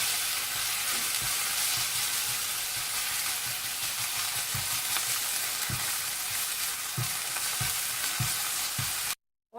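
Beef stir-frying on a high flame, a loud continuous sizzle with regular stirring knocks of a utensil against the pan, ending abruptly in silence.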